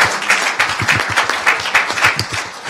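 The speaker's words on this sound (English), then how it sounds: "Give everybody an applause." Conference audience in Geneva claps in warm, sustained applause, a dense patter of many hands at fairly close range with slight swells, no voices standing out.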